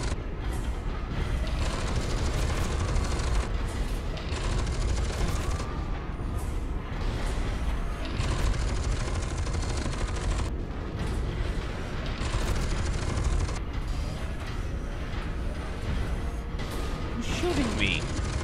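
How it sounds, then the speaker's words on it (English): Gunfire from several directions in the F.E.A.R. 2 shooter game on PC, a dense, continuous barrage of shots and mechanical clatter running loud and steady throughout, with a voice talking over it. "Oh shit, I'm being shot from multiple sides."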